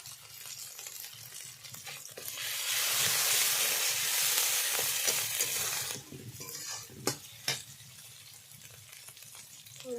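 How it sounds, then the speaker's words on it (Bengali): Spice paste is stir-fried for a spicy sea kajal fish curry: a spatula scrapes and clinks against the pot, and a loud burst of sizzling swells midway, then fades back to stirring and a few sharp knocks. "মশলা আমি ভালো করে কষে নেব।"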